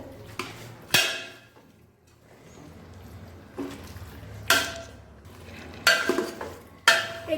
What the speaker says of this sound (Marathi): आता आपण यामध्ये टाकलेलं आहे मटण आता हे पण हे छान मिक्स करून घेऊया